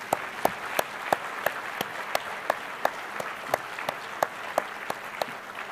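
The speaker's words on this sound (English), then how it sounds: "Let's give them a big round of applause." Applause at a US conference on AIDS, a steady wash of many hands clapping with a few sharper individual claps standing out at a regular beat, moderately loud and continuous throughout.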